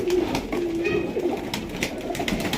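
An Old Line pigeon coos softly at a pigeon sale in Bangalore, making low, rolling calls over a steady murmur of surrounding birds.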